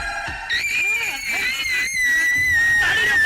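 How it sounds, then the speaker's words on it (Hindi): A woman screams in a Hindi action movie: a loud, sustained high-pitched cry that climbs and holds, with voices and other sounds mixed underneath. "रुको, ये उसी की चीख है।"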